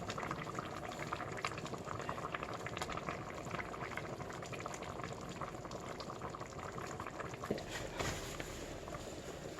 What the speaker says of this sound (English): So you will cover it, let it simmer.